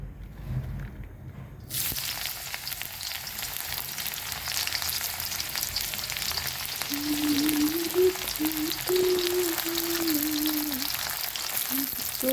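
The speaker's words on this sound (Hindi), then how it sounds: "अब मैं इसमें डालती हूँ प्याज" Onion frying in a pan for chowmein starts abruptly after a quiet moment, then holds a steady bright sizzle while a faint melodic tone rises in the background during the second half.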